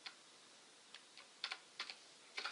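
A new computer keyboard clicks in sparse, irregular keystrokes and small clusters of key presses, close-miked over a steady background hiss.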